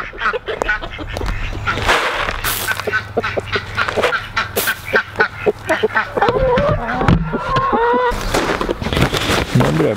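Several ducks quack and honk loudly and close by, overlapping in busy bursts, with a human voice briefly mixed in among the calls.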